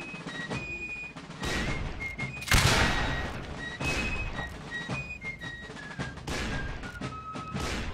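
A volley of muskets fired by infantry of the 17th Virginia in Mount and Blade: a crackling burst of shots followed by scattered thuds and echoing reports, with whistling tones through the mix and no voices.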